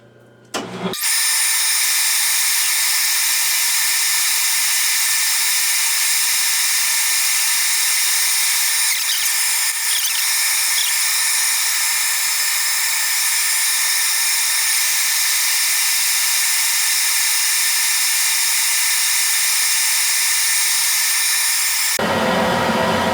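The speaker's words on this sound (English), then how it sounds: "now I've got it on an expanding mandrel, and I'm just going to clean up the outside and put a couple of nice little bevels on each end" A part on an expanding mandrel being cleaned up on the outside and beveled at each end: a loud, steady machining whine with high tonal bands, running without break for about twenty seconds before cutting off abruptly.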